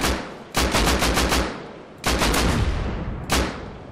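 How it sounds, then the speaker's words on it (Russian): Incendiary ammo gunfire in the video game Rust rips out in loud, close automatic bursts: a long rapid string, a pause, then another sustained burst and a final short volley, with no talk. "Мы там немножко зажигательными постреляли"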